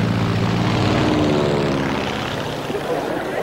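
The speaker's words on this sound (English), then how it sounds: "Airplanes defied gravity." A propeller airplane drones loudly overhead with a steady throbbing engine hum that gradually recedes.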